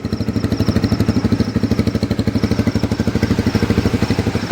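A Flash 150X FI Euro 4 motorcycle engine with about 1,500 odometer miles idles steadily nearby, a loud, even low-pitched putter with a rapid regular pulse throughout.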